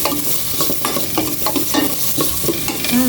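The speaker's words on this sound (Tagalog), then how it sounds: "Ito ang igisa natin ng maigi." Garlic sautés in a hot pan with a loud, steady sizzle. Repeated scraping stirs cut through it over a few seconds, and no one speaks.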